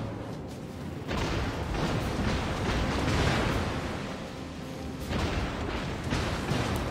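Heavy, booming naval gunfire from a battleship in the video game World of Warships rumbles continuously, with dense bursts of explosions and roaring blasts rising and falling in intensity.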